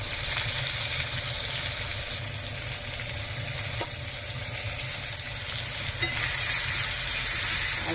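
Chopped onions fry in a pan alongside fish, a loud, continuous bubbling sizzle with occasional crackles and stirring scrapes, close and without talk.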